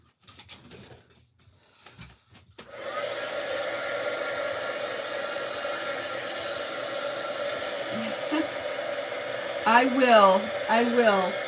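After a few quiet knocks and rustles, a hair dryer switches on and blows steadily over craft pieces, a constant close whir with some brief squeaky chirps near the end.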